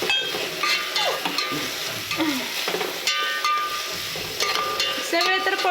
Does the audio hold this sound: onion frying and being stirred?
yes